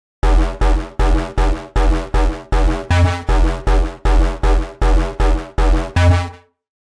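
A modulated neurofunk-style Reese bass stab synth hits in a rapid run of about a dozen short, punchy, gritty bursts, each clipped off sharply, with the final stab ringing out slightly longer.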